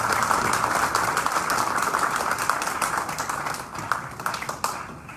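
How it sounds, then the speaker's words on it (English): Audience applause for gubernatorial candidates at a Guam election forum, a dense, steady wash of many hands clapping that thins slightly toward the end, with no talking over it. "give all of the gubernatorial candidates a round of applause"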